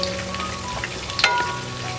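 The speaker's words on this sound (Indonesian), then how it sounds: "Ini akan kita goreng sebentar aja sampai warnanya agak kecoklatan sedikit." Beef for soto Betawi, already drained, fries briefly in hot oil until lightly browned, giving a steady close crackling sizzle with small pops throughout and no talk.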